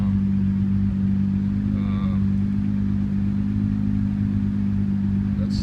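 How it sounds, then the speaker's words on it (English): A swapped 1JZ engine in an MK3 Supra idles with a slight miss, a steady loud low drone close by, with brief faint talk partway through. "There's a little bit of a miss that I have to figure out. It's not running absolutely flawless yet. It's only when it idles."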